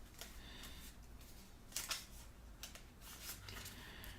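Marvel Champions game cards being shuffled by hand on a table, quiet close riffles and flicks in short bursts with a few louder snaps, no talking.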